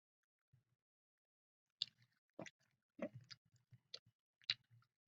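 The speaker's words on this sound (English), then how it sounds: "It's me chewing gum" Someone chews gum close to the microphone, making several soft, wet smacks and clicks in an irregular rhythm amid near silence.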